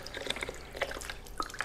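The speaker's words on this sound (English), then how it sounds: "What you want to do now is top it off with some chicken broth." Chicken broth poured into a crock-pot for chicken and dumplings, a short run of close liquid splashes and drips, fairly quiet and uneven, with no talking.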